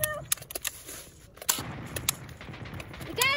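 Gunfire in a WWII battle scene set in the Ardennes, with scattered sharp shots and short bursts of rifle and machine-gun fire, loud and near, spread irregularly over a few seconds.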